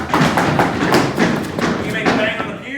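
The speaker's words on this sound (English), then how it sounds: "you may give a mighty stomp of your feet" An audience in a hall with pews at the Boston Tea Party Museum stomps their feet together, producing a rapid series of heavy thuds that rumble steadily.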